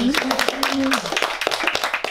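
Audience applause at a French talk-show gathering, a dense patter of hand claps under a voice speaking over it, moderately close.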